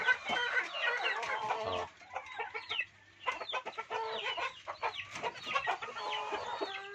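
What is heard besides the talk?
native chickens crossed with Rhode Island clucking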